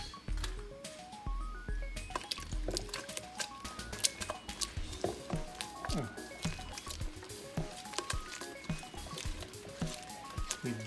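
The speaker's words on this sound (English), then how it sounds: "We basically whisk this a little bit and until we get kind of like a pancake batter." Eggs are whisked into a batter for fried chicken, a quick wet clicking and squishing rhythm close by with steady patter, continuing throughout with no talk.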